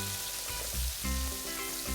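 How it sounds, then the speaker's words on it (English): Chopped tomatoes and cumin sauté in a hot pan for a pea curry, giving a steady, close frying hiss with soft crackle over a low background hum. "Let's stir and saute this for a minute."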